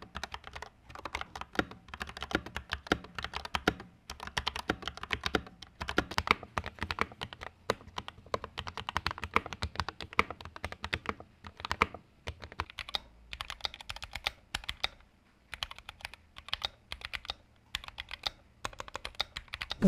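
Typing on a RUF Serra 68 mechanical keyboard with an aluminium plate and plate-mounted stabilizers: a dense, steady stream of close keystroke clacks with occasional short pauses, and no talking.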